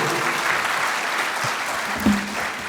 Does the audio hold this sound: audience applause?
yes